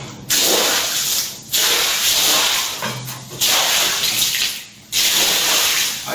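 Water is poured onto a floor and rushes toward a drain in loud, close splashing surges, several pours in a row separated by brief gaps, with no talk.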